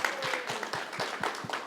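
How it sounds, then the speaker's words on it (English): Audience applause at a business summit, a quick burst of steady clapping from a room of people, moderately quiet and continuous for the short span. "Quick round of applause."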